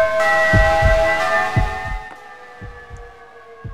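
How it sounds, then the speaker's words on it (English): A bell rings in the horror game Yomawari: Night Alone, with sustained, clear ringing tones layered over slow, heavy low thumps that beat roughly every half second, fading toward the end. "Oh, what a lovely bell."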